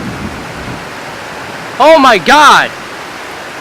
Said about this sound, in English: A beautiful sunshine day turns into a rainy thunderstorm day